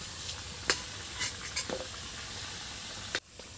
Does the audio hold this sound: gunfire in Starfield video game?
no